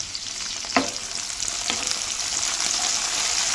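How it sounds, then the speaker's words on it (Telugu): Fenugreek leaves going into a frying curry of broad beans and tomato, with a steady close sizzle and a couple of sharp clatters from adding and stirring. "దీంట్లో మెంతకూర అనేది వేసేసుకుందాం"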